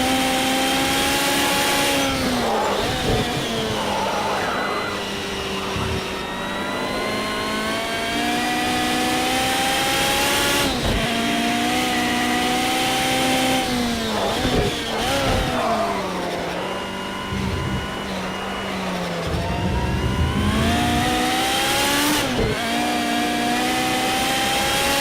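A 2017 Porsche 911 RSR racing engine in Project Cars 2 screams through repeated gear changes, pitch climbing and dropping as it accelerates and brakes, loud and continuous with no voices.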